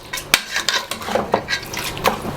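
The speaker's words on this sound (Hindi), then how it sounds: "पानी शामिल करने के बाद इसको अच्छी तरह हिला देंगे" Mutton with turmeric and water being stirred in a pot for tinday gosht: metal spoon clinks and scrapes against the pot with soft sloshing, several sharp knocks over steady stirring, close and moderately loud, no talk.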